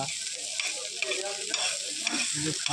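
Eggs frying in a pan at a street food stall, a steady bright sizzle with intermittent stirring and scraping, close and moderately quiet, with no talk.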